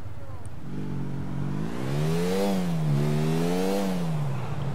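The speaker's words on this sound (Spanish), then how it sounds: "Hostia, cómo mola esta moto." A motorcycle engine in the video game GTA IV revs up and down in smooth rising and falling sweeps, fairly close and steady, with someone talking around it.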